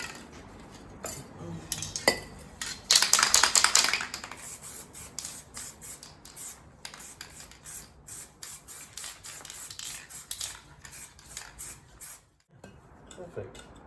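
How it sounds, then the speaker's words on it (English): Short bursts of Hammerite aerosol spray paint hiss, with one longer blast, amid rattling and clinking handling noises while replacing strut mounts on a VW Golf Mk2. "I will still give it a spray of hammerite"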